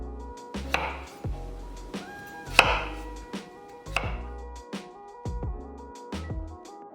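A kitchen knife chops large potatoes into 1.5 cm slices on a cutting board for braised potatoes with small anchovies, giving about a dozen crisp, close thuds at an uneven pace over soft background music.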